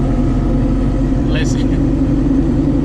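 Worn rear end of a Jeep Cherokee XJ while driving, a constant low rumbling drone with a droning whine inside the cab, steady and loud, with a brief higher chirp partway through.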